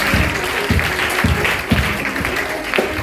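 A church congregation claps together, loud steady applause with sharp, roughly rhythmic hand claps close by, lasting a few seconds under faint voices.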